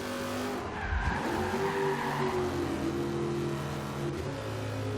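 A Dodge RAM with a Hemi V8, built as a street truck, drifts in Forza Horizon 2, its engine droning steadily while the tires squeal through a sustained slide, close and unbroken, with no voices.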